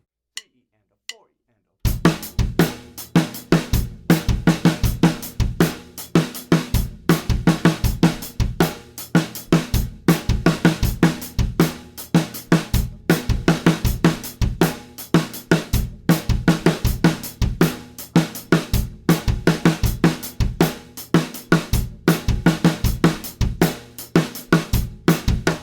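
After a couple of isolated count-in clicks, a drum kit plays a mixed 8th and 16th note beat at a faster tempo, with dense, loud, evenly driving hits filling the rest of the stretch.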